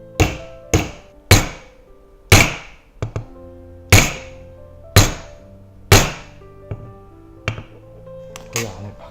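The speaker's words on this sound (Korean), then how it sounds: "큰 망치로 충격을 줘볼게요." Heavy hammer blows land repeatedly on a diamond, about a dozen sharp metallic strikes at an uneven pace, each one loud and close with a brief ringing decay.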